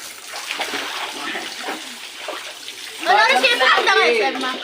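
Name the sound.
water splashing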